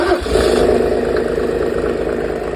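A Mercedes OM606 3.0-litre diesel engine with a mechanical injection pump, driving a PN-40 motor pump, runs loud and close after starting, with a steady rough diesel clatter and hum.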